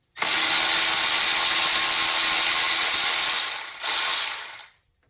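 A loud ratchet with an extension spins rapidly and continuously on a Toyota 2JZ engine's AC compressor bracket bolts, broken by one brief pause before a final short burst.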